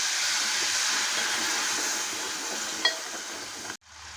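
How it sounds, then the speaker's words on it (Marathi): Water poured into a pan of frying red chili masala with garlic paste, turmeric and salt sends up a loud, steady sizzling hiss that dies away abruptly near the end. "मिरची जळून जाईल म्हणून थोडंसं पाणी टाकते"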